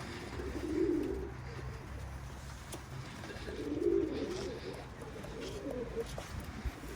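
Pigeons coo in low, soft bursts near a loft, with a couple of rounded cooing phrases rising above a steady ambient hiss and faint outdoor noise.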